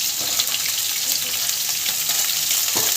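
Whole small okra fry with onions in oil in a pan, a loud, steady close sizzle with occasional stirring scrapes.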